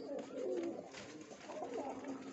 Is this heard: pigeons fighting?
yes